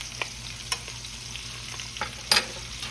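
Trout sautéing in a hot skillet that heats unevenly, with a steady low sizzle and a few brief scraping stirs as the fish is moved around, close and fairly quiet with no talk.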